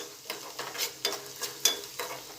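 Fried chillies are stirred with jaggery in a pan, a series of soft rhythmic scraping strokes with a light sizzle underneath, close and fairly quiet.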